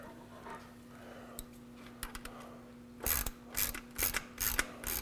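A ratchet tightens the clamp on a Magnaflow Off-Road Pro Series exhaust. After a quiet stretch with faint handling clicks, several short, close bursts of rapid ratchet clicking follow one another.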